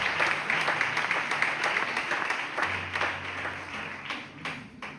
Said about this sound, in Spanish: Le podemos dar un fuerte aplauso a su palabra, por favor, dáselo fuerte, que es para el Señor.